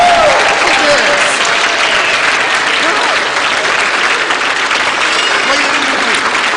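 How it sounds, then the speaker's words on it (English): Sustained, loud audience applause following a Christmas nativity play, a dense, continuous wash of clapping from a large crowd with some voices mixed in, lasting throughout. "I think that we need to have one more round of applause for you guys"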